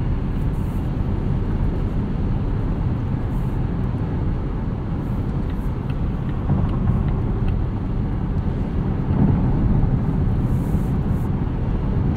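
A 2019 Volvo V60 T6 AWD wagon cruising at night gives a steady, moderately loud cabin hum of road and engine noise that stays even throughout.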